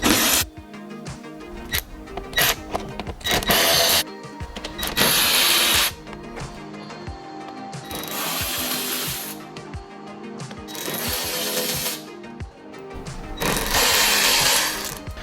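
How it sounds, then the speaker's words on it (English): Power tool bursts removing T25 screws from the plastic fender liner of a 971 Porsche Panamera, loud whirring spurts repeating every couple of seconds with short pauses between, no talking. "we can go ahead and remove the 2 T25 screws that hold the plastic fender liner on"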